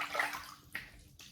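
Brief splashes of warm water from a full sink scooped onto a face, two or three quick sloshing bursts close by, with no voices.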